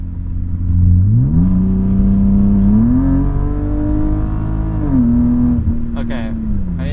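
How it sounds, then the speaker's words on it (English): Automatic BMW E36 M3 held at full throttle, its engine note climbing steadily in pitch, then dropping as the gearbox kicks down and rising again, loud and close throughout with no talking. "I'm going to floor it, but not hit the kickdown switch, and then I'm going to hit the kickdown switch."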